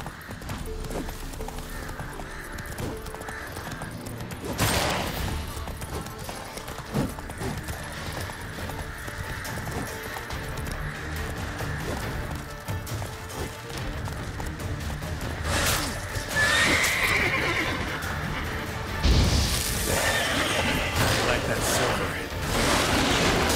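The horse Roach gallops through The Witcher 3 in a rhythmic run of hoofbeats, with occasional louder hits, neighs and jingling tack over game ambience.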